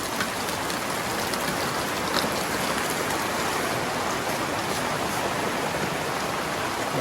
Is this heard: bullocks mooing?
no